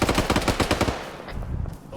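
An armored personnel carrier's automatic cannon fires in ArmA 3, a loud rapid burst of close, evenly spaced shots that then trails off into rumbling echoes and quieter distant fire.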